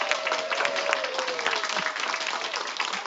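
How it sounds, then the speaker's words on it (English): Audience round of applause at an EdenHill Chopped cooking competition vote, steady dense clapping from a crowd lasting throughout, with a faint voice briefly audible over it. "please give a round of applause."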